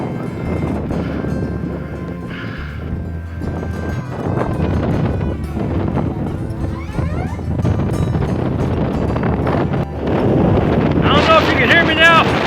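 Strong wind roars and buffets the microphone on the rocky granite summit of Enchanted Rock State Park near Fredericksburg, Texas, with steady gusting rumble and muffled voice fragments underneath.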